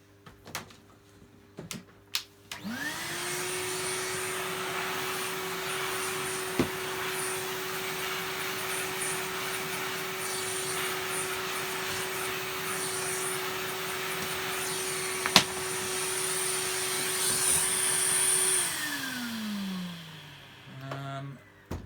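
A vacuum cleaner cleaning parts of a Goblin Electra vacuum: the motor spins up with a rising whine, runs steadily and loud with nozzle scraping and a few knocks, then winds down at the end.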